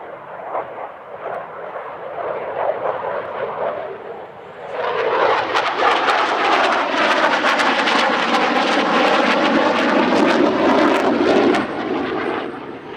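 An Italian Air Force Eurofighter Typhoon jet at an airshow, a loud rushing roar that swells sharply midway into an intense, sustained jet blast with a sweeping pass, then eases off slightly at the end.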